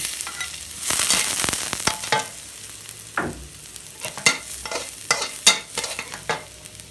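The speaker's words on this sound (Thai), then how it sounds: "วันนี้ผัดผักเช่นเคย ลงกระเทียม" Garlic and vegetables stir-fried in a hot pan, with repeated scraping and stirring strokes over a steady sizzle, close and fairly loud, with no talking.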